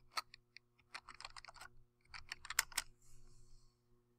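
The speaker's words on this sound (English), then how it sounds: "Position your cursor in front of the number and type in your last name." Quiet, close typing on a computer keyboard while formatting a paper: irregular bursts of light key clicks with short pauses, ending in a faint trailing rattle.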